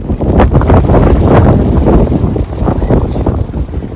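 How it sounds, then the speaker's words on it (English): Rough, gusty wind buffets the microphone, a steady low rumble with louder surges, no voice on top. "It is a bit windy, so I hope you can hear me."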